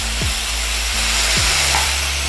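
Shaking beef, Vietnamese bo luc lac, sizzles loudly and steadily in a frying pan close up, a continuous hiss with a low hum underneath and no talking.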